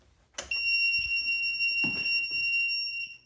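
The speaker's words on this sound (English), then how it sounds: "It works really great, except for this really annoying beep when you turn it on." A Deer Run walking pad treadmill gives a shrill electronic startup beep at power-on. It is a sustained high tone held for about two and a half seconds, with a few soft clicks and thumps nearby.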